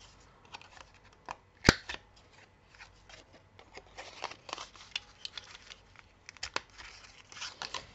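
Scissors round off the corners of a paper tag in a craft project, producing a sharp snip followed by scattered quiet crisp paper cuts and rustles at close range.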